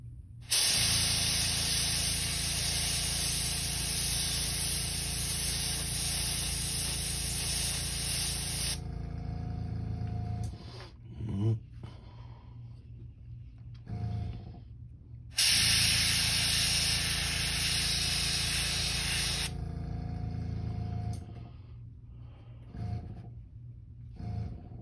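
An airbrush sprays paint on a Mega Shad crankbait lure, giving two long, steady, close hissing bursts, each followed by quieter, uneven sputters and short puffs.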